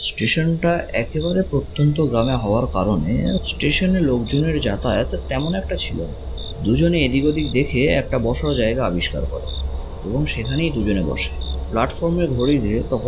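Crickets chirp at a remote village railway station in the evening, a constant high, shrill trill running beneath a voice that narrates throughout.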